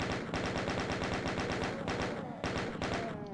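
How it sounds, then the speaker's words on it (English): A chain gun fires in DOOM, a continuous rapid burst of loud, close gunshots in steady rhythm, briefly broken twice, with no talk over it. "So let's go ahead and use a chain gun for them."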